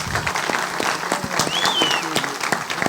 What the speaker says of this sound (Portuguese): Agora uma salva de palmas para os nossos poetas!